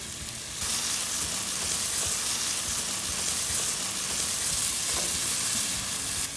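Chopped tomatoes and onions fry in a pan for a Kerala-style shrimp masala curry, giving a loud, steady, close-up sizzle with faint stirring throughout and no talking.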